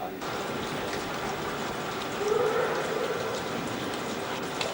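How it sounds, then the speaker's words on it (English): Steady rain falling outdoors in Namibia, a continuous soft hiss of drops that swells a little midway, with faint background noise and no clear talk. "You can even spend here somewhere because it's raining"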